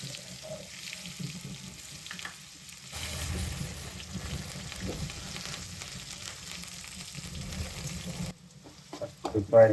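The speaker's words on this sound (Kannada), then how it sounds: "ಫ್ರೈ ಮಾಡ್ಕೊಬೇಕು, ಎಲ್ಲೋ ಬ್ರೌನ್ ಬರುತ್ತಪ್ಪ." Cumin and onion frying in a pan, a steady low sizzle with occasional stirring and clatter, a voice talking over it, ending with louder knocks.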